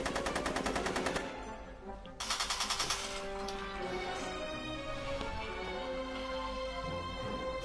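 Machine-gun style gunfire in a Back to the Future video game, a fast rattling burst at the start and another brief volley after a short pause, set against busy game music.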